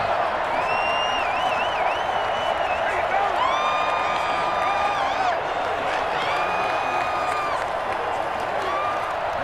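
Stadium crowd in Madden NFL 21 during a Colts versus Jets game: a steady, broad roar of fans with rising whistles and whoops, while a commentator talks over it.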